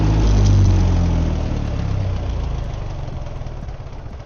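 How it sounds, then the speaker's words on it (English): A Ditch Witch R65 trencher's engine idles a little on the high side, a loud, close, steady rumble with a faint rapid pulse that eases slightly after the first second; no one speaks. "Other than the engine idling a little on the high side, I think she's ready to hit the road."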